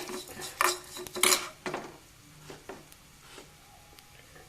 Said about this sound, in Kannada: ಅರ್ಧ ಸ್ಪೂನ್ ಜೀರಿಗೆ ಹಾಕ್ತೀನಿ.